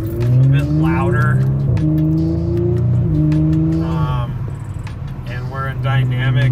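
An Audi S5 B9 fitted with a sports exhaust and a 034 Motorsport Stage 2 tune is driven hard, its engine note rising and falling through gear changes, loud and close, with a person talking over it throughout.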